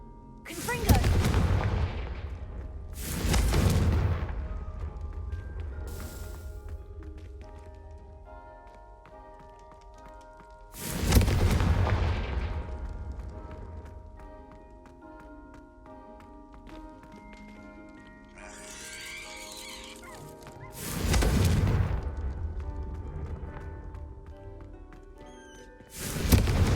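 Confringo blasting spells explode in Hogwarts Legacy, several loud booming bursts spaced several seconds apart over a steady game music bed, with a shout of the spell name.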